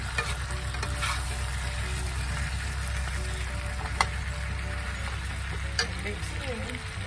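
Seasoned potatoes being tossed together in a bowl, a steady dense crackle and hiss of sizzling fat running throughout with a couple of sharp clicks, moderately loud and close.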